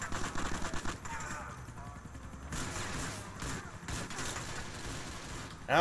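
Rapid automatic gunfire in Grand Theft Auto IV multiplayer, a quick run of repeated shots at the start, then quieter scattered fire under game noise and voices.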